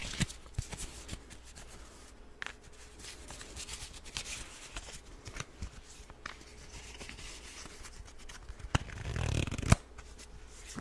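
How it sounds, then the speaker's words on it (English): A deck of tarot cards is shuffled repeatedly, soft riffling and sliding close up, with brief taps and a louder rustle near the end. "I want you to hold those thoughts in your mind while I shuffle the cards"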